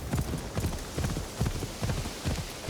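A horse gallops through a village in Assassin's Creed Shadows, with quick, loud, close hoofbeats landing in a regular rolling rhythm and no talk.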